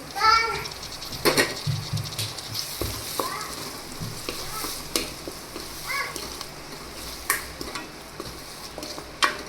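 Chopped tomato cooking with coriander-cumin powder and a little sugar in a pan, a steady soft sizzle with intermittent clinks and scrapes of stirring, while a voice is heard faintly in the background.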